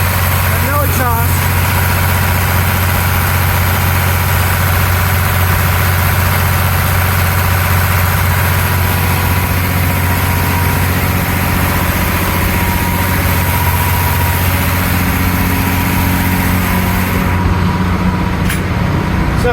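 A 1928 classic yacht's engine runs steadily without its turbo inside the engine compartment, a loud continuous low drone with constant mechanical clatter throughout, briefly joined by a voice near the start.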